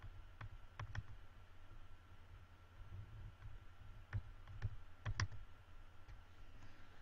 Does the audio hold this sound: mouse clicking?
yes